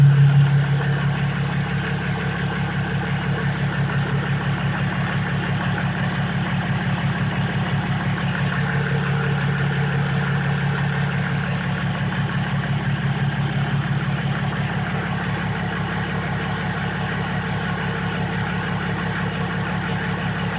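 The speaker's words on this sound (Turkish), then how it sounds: "Çalışması böyle egzoz yokken." A Mercedes ML300 CDI V6 diesel idles with no exhaust fitted, a steady, loud, rough low rumble with fast regular ticking pulses that holds evenly throughout, with no talk.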